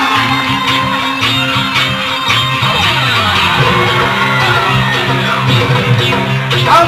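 Assembled students at a school golden jubilee celebration in Kharangkong cheer and yell loudly and continuously, a dense crowd roar with whoops, over steady hall noise, with no clear clapping standing out.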